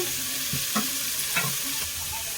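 Prawns fry in a pan for prawn biryani, a steady close sizzle with a few soft scrapes as they are stirred, no voices.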